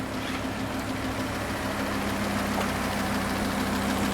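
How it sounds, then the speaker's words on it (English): A 2015 Lamborghini Huracan LP 610-4 with its 5.2-liter V10 idling, heard up close with the engine compartment open: a steady, even low hum with a mechanical whir over it, with no talk. "let's open the engine compartment for just a second. While we've got it running."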